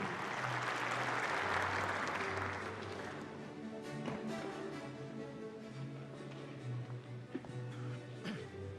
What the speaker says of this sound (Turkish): Çalışma ve Sosyal Güvenlik Bakanımız Sayın Vedat Işıkan'ı alkışlarınızla sahneye davet ediyoruz.